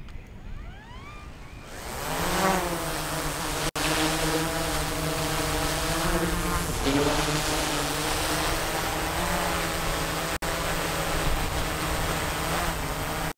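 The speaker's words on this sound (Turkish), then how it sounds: "Bir elimle de ekrana basıyorum ve otomatik kalkış başlıyor." A DJI Mavic 3 Classic drone lifts off on automatic takeoff, its propellers spinning up from quiet into a steady, loud, close electric buzz with shifting harmonic whine, holding continuously throughout.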